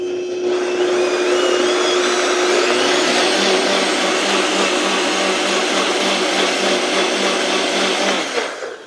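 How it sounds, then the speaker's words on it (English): A blender whirs pancake batter of milk, maple syrup, lemon zest and a pinch of salt, a loud, steady motor whine that holds close for several seconds before cutting off at the end. "we'll just blend this all together till it's smooth"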